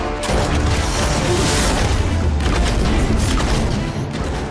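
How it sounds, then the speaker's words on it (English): Chemical bomb from the Alchemist's hand cannon in the Nosgoth video game bursting in a loud, rumbling blast that fills the whole span, dense and sustained before tailing off slightly. "It launches explosive chemical bombs that can bounce off terrain for impressive area of effect damage."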